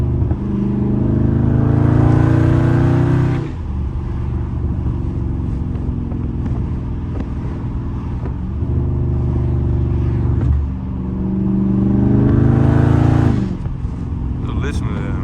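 Loud V8 of a Dodge Charger Scat Pack revving and downshifting on the road in street mode, deep rumbling swells rising and falling in three long surges, close and steady throughout.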